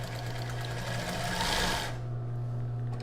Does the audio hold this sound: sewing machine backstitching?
yes